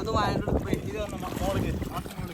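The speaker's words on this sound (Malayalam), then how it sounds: "ഒരു ബോട്ട് വന്നുകൊണ്ടിരിക്കുന്നുണ്ട്" A boat motor drones across open water under heavy wind buffeting, with a faint voice briefly audible.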